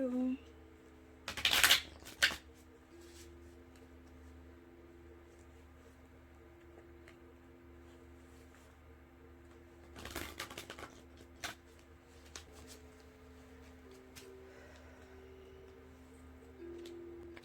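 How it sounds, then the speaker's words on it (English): Oracle cards are shuffled in two short bursts of papery riffling, one early and one later, over faint low hum and quiet room noise between. "if I don't get a jump card, I like to do this type of shuffling method"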